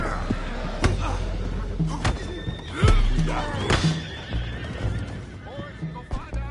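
Horses neigh and whinny in a video game, with clip-clop hooves, a few sharp thumps and slams, and voices talking over the action.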